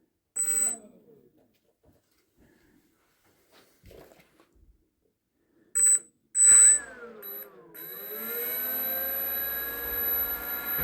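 An E-flite Air Tractor RC plane's electric motor setup after the throttle cut is switched off. Sharp electronic beeps come first, then a steady, tonal whine that dips and rises in pitch before settling.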